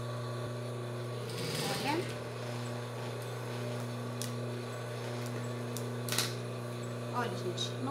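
A sewing machine stitches seams on a pair of children's shorts with pockets, a steady mechanical hum with bursts of faster whirring, while someone talks over it.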